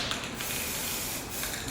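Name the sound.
spray paint can spraying onto bars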